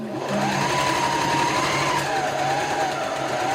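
A sewing machine runs steadily close by, stitching down a seam on a herringbone-layout quilt project. The motor hums loud and continuous the whole time, with a faint pitch wobble and no talking.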